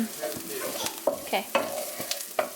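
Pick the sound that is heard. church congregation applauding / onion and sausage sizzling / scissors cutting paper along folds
onion and sausage sizzling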